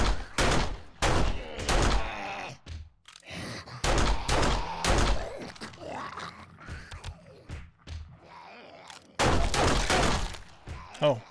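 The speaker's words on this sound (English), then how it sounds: "Oh, I guess I'm just shooting the stairs." Gunfire in the zombie survival game 7 Days to Die rings out in loud bursts of rapid shots, with several volleys separated by short pauses and quieter thuds and impacts between them.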